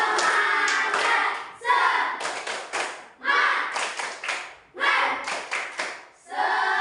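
A class of students claps a rhythmic chant in unison, loud, close bursts of hand claps grouped in repeating patterns with short pauses between phrases, mixed with voices.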